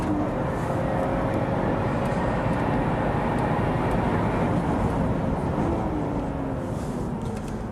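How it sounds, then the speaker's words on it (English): Lotus Evora Sport 410 driven on a track, its engine giving a steady, continuous loud drone with gentle pitch shifts as revs rise and ease throughout. "it's just a slightly more musical engine"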